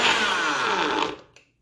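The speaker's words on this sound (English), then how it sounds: "let's see if the NutriBullet can handle this" A NutriBullet blender whirs loudly and close up, blending tomatoes and mushrooms into a raw vegan mushroom hemp dressing, then cuts off abruptly after about a second, leaving silence.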